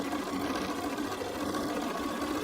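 A sewing machine stitches quilt fabric pieces for a Stars & Snowballs quilt, an even, steady mechanical whirr running close and continuous without pause or speech.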